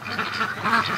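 Muscovy ducks quack in a steady run of close, nasal calls, several overlapping across the second with no voices.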